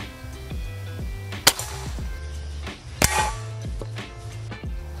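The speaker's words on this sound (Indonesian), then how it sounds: "itu tadi untuk sasaran tembak menggunakan wajan" Gejluk DWP Fusion 2570 air rifle firing at a frying pan target, two sharp metallic cracks about a second and a half apart over a steady background hum.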